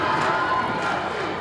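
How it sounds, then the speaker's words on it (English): Crowd at a 2003 Class D high school volleyball final between Adrian Lenawee Christian and Battle Creek, a dense, steady roar of gym spectators murmuring and cheering throughout the short stretch. "Good crowd on hand"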